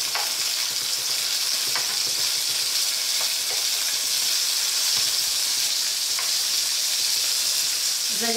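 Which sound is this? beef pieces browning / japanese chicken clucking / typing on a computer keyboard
beef pieces browning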